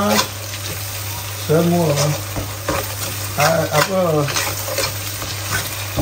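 Chili being fried and stirred in a pan for spicy chicken: constant close sizzling and scraping of the spatula, with a person talking over the cooking.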